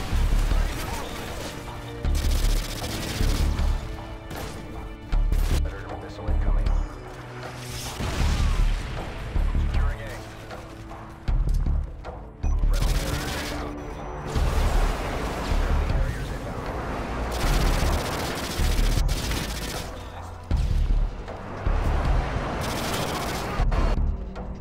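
Akimbo machine pistols with extended magazines fire in Call of Duty: Modern Warfare 2, producing loud, dense bursts of rapid shots that come in repeated volleys with brief pauses between them.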